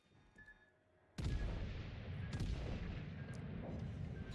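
Secondary guns on the battleship Michelangelo fire in World of Warships, a sudden heavy boom after a quiet second giving way to a sustained rumbling barrage with repeated sharp reports, loud and continuous.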